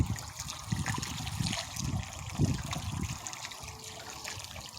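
Water leaks from a pipe fitting, a continuous close splashing trickle with uneven gurgling pulses and no pauses.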